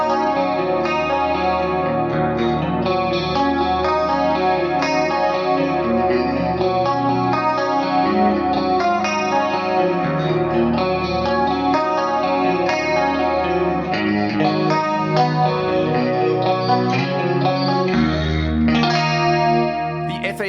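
A Strat electric guitar on the neck and middle pickup position plays chords and melodic lines through the Fractal Audio ICONS Pasadena preset, with dimension chorus, dual detune and deep chamber reverb giving a shimmering, wide, sustained tone that continues for the whole stretch.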